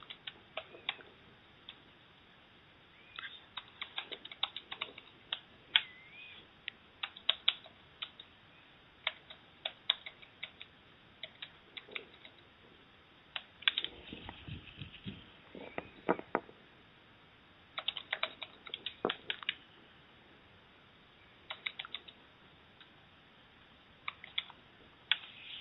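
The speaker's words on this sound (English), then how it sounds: "Sorry, I was typing." Someone types on a computer keyboard in quiet, irregular bursts of clicks with pauses between runs. The sound is faint and close, with no talking.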